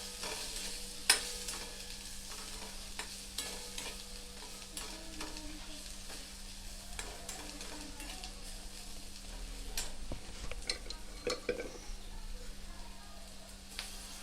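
Turmeric and chutney powder stirred and sautéed in a pan for a sprouts salad: a soft, steady sizzle with scraping spoon strokes and occasional light clinks, close and fairly quiet.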